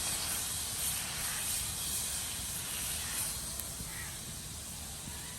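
Water splashed onto a hot pan for garlic rice roti sizzles in a steady, loud hiss that fills the whole moment without letup, close by and alone.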